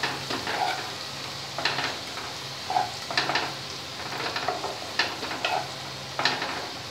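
Bhetki fish fries in a pan with a steady low sizzle, joined by occasional stirring and light clinks of a utensil against the pan, close and fairly quiet.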